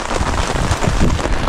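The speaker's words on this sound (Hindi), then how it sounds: "बारिश शुरू हो गई है" Steady, heavy rain pattering on a surface at Saidgai Lake in Dir, Pakistan, a dense continuous wash of noise close by with no voices.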